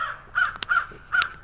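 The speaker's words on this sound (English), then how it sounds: "I'm not the bird in the background" A crow cawing outdoors, three loud harsh caws in quick succession with a sharp click between, fairly close and alone.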